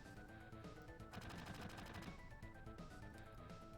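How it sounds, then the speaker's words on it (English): Rapid automatic gunfire rattles in a video game, bursts of machine-gun shots layered over a dense, steady game soundscape, the firing loudest in the middle of the stretch. "Let's hear some gunshot sounds."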